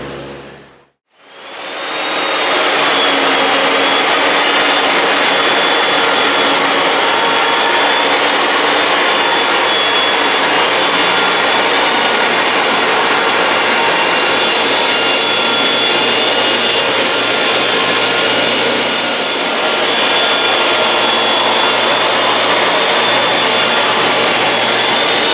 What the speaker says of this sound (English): So I'm going to set my table saw for a 17-degree